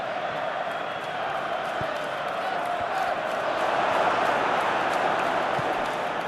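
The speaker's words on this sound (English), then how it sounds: "Crowd appreciates good football all round there." Stadium crowd noise from a PES 2021 football simulation of Arsenal versus Fulham, a steady broad roar of applause and murmuring that swells slightly midway and continues alone throughout.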